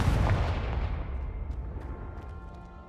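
A Confringo blasting spell from the Hogwarts Legacy video game goes off at the start, a loud deep boom with a broadband burst that rolls off into a long, fading low rumble, heard without any voices.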